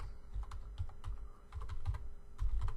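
Someone types on a computer keyboard, tapping keys in quick, irregular bursts with short pauses, close and clear, and no one talking.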